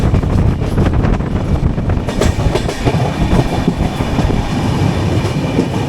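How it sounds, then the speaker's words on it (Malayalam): A MEMU electric multiple-unit train bound for Chennai Central rumbles past at close range near Perambur, with steady loud rolling noise, clattering wheels over rail joints and some wind buffeting, no voices. "ചെന്നൈ സെൻട്രലിലേക്ക് പോകുന്ന മെമോ ആണ്."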